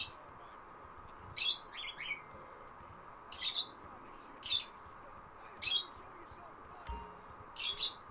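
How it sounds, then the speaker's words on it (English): Several bursts of high, shrill bird chirps repeat every second or so over a quiet background hum, fairly close and clear, from real birds heard during GTA 5 play. "sorry for the bird noises, but they live here"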